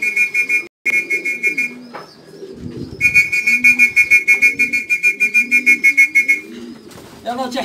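Pigeons coo repeatedly in close, rhythmic bursts while a loud, steady bird whistle sounds intermittently over them, as the flock is expected to come down and land.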